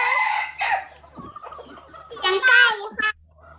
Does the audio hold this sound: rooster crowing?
yes